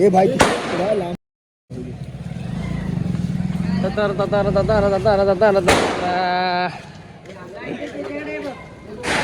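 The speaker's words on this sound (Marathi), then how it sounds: "फोडो बाय फटाका फोडो." Diwali firecrackers burst in a couple of sharp, loud cracks, one early and one midway, amid lively Marathi chatter and festive talk from people nearby.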